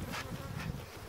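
Honey bees hum at a beehive during hive care, a close, continuous buzzing drone with slight swells as insects move near, with no talking.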